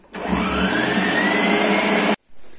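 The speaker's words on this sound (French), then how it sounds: "Fouettez jusqu'à ce que la chantilly puisse bien monter." Electric mixer running at high speed to whip cream with icing sugar into chantilly: a loud, steady motor whir that cuts off briefly near the end, then restarts.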